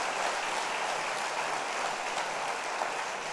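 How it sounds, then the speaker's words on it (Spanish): A church congregation applauds during a Wednesday sermon, an even, moderately loud spread of many hands clapping that continues steadily with no talk over it. "¿Cuántos le pueden dar un aplauso a Él por ese amor tan grande, tan hermoso que Él nos ha dado?"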